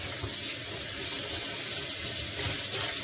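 Cold water runs from a tap in a steady, close splashing stream as elk meat is rinsed under it in a kitchen, with no talking.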